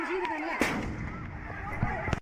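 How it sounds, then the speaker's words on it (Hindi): A bomb blast in violent street unrest, a sharp loud boom with crackling, gunfire-like pops after it, heard amid noisy surroundings in news footage. "तो एक और बम धमाके की आवाज सुनाई दी।"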